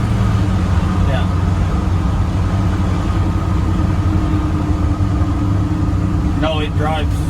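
A car cruises steadily at 60 km/h, its engine and road noise a loud, even drone inside the cabin, with people talking over it.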